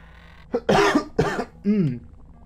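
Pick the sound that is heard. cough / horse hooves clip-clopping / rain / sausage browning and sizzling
cough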